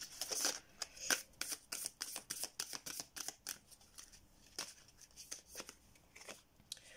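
A tarot card deck is shuffled by hand close by, with quick papery riffles and snaps in an irregular run of short bursts, fairly quiet and with no talking.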